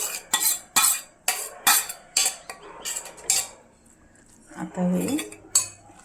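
A spoon clinks and scrapes against a bowl in a quick run of sharp strokes while mixing coarsely ground dal with raw mango for a tangy chutney, followed by a pause and softer stirring as a voice speaks briefly.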